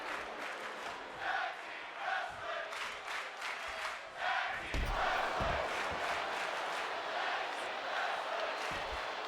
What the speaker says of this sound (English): The crowd is as excited as they should be.